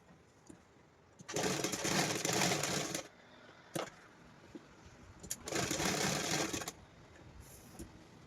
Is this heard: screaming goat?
no